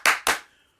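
Two sharp hand claps close to the listener, spaced about a fifth of a second apart, closing a children's Easter Bunny show theme song, with a short ringing tail after the second.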